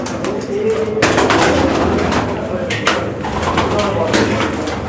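Pigeons cooing close by in a loft, steady soft calls with some wing movement, under people talking in Punjabi.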